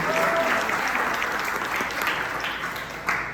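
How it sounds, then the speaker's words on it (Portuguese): A church congregation applauds long-serving members during a service, a brief, dense wash of clapping that stays fairly even throughout. "Vamos aplaudir esses irmãos."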